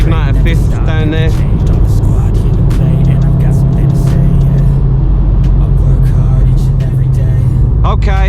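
VW Golf R Mk7.5 engine pulling hard in fifth gear, a loud, continuous droning roar heard from inside the car, with brief voices near the start and end.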